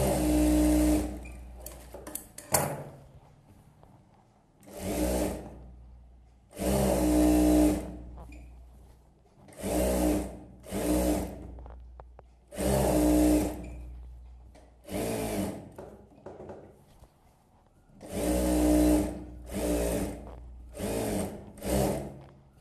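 A tailor's sewing machine stitches a blouse in repeated short bursts, each lasting one to two seconds with gaps between, loud and close.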